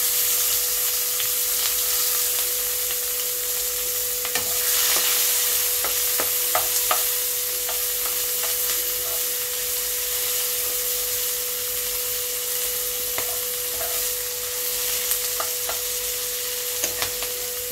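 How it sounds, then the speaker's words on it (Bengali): Onion, black cumin and two green chillies fry in oil for a light fish curry, a steady broad hiss with scattered spatula clicks and a faint constant hum beneath, no talking. "ওই তেলে আমি দিয়ে দিলাম একটু কালো জিরে, একটু পেঁয়াজ, দুটো কাঁচা লঙ্কা।"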